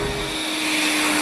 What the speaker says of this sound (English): you hear that turbine engine singing along and it feels like you're cruising in a jet.